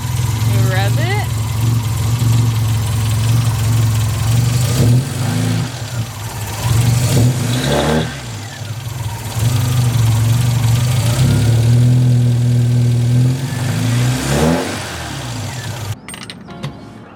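A classic car engine with its tachometer being wired in, idling with a rough, fluttering beat and rising in a couple of rev swells. The engine sounds close and loud, and a voice talks over it.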